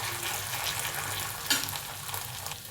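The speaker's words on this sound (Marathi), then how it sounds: "तर आले लसणाची पेस्ट टाकते, हलवते थोडं" Ginger-garlic paste sizzles and fries in a pan with browned onions while being stirred, a steady close crackle with one sharp clatter of the spoon midway; no talking.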